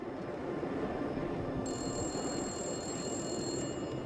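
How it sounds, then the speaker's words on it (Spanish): A public payphone rings repeatedly in a steady pattern against a constant low background rumble, loud and close, with no voices. "el teléfono público comenzó a sonar"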